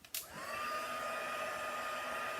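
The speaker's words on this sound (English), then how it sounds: "Embossing gun." An embossing heat gun used to melt a marshmallow for s'mores starts with a click, then blows a steady, close, hair-dryer-like whoosh and hum that holds to the end with no talking.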